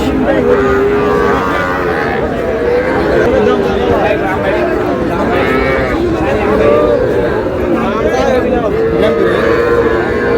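Young bull calves at a rural cattle market low repeatedly with drawn-out moos, heard amid constant crowd chatter and bargaining voices, loud and close throughout.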